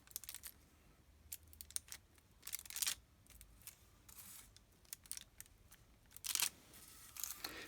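Soft shotgun plastic is cut at a desk in a series of faint, irregular snips and small clicks, some spaced apart and some in quick clusters, with no talking.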